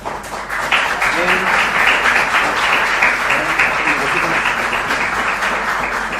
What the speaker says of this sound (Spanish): vamos a brindar un fuerte aplauso por la disertación